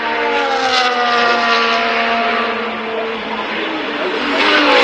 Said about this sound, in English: Through turn 19 goes Nico Hulkenberg, and next up is Oliver Behrman.